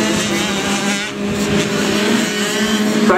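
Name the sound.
race motorcycles finishing a race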